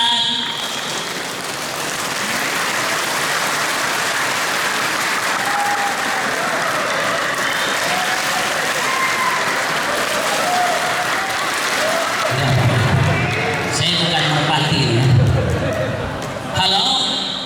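A crowd of company employees at a Ramadan fast-breaking gathering with an ustadz claps in a dense, sustained wash of applause that runs throughout, with voices and cheering rising near the end.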